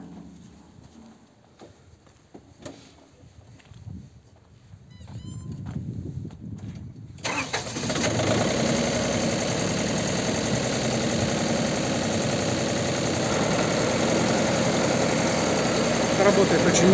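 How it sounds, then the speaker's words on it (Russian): A Star MRB 0840 baler is quiet at first, with some faint talk, then its engine starts abruptly and keeps running in a loud, steady drone close by. "сейчас запустим технику, прокрутим пресс, проверим, как работает"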